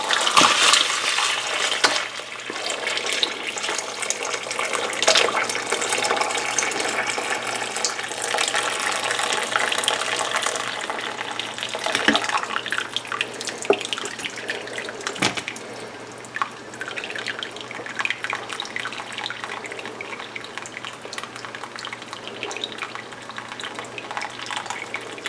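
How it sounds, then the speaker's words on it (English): Turkey stock pours and splashes steadily through a strainer into a bowl, a continuous close watery rush that slowly eases off. "I'm just going to pour a lot of this stock in through here to strain out the big chunks"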